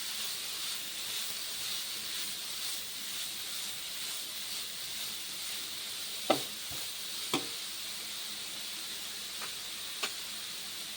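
Carrots frying in a pan for carrot halwa, a constant steamy sizzling hiss with a few sharp utensil taps against the pan, near and moderately quiet, no talk.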